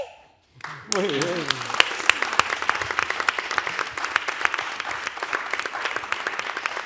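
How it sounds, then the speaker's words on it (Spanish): An audience bursts into dense, continuous applause after a brief pause, many hands clapping at close range with no break, following a performance by two traditional singers. "realmente le dimos un aplauso a las dos portadoras tradicionales de canto tradicional, a María"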